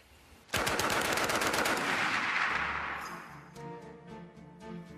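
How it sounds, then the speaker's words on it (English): A Browning Automatic Rifle fires a long, loud burst of rapid automatic shots, followed by booming echoes and a few scattered later reports. "it has a booming report, and you're throwing a lot of lead out"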